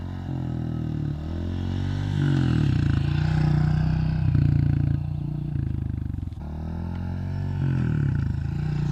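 A beginner, a young daughter on her first ride, runs a dirt bike motorcycle with a steady, loud engine drone that rises and falls as the throttle changes, with no talk over it.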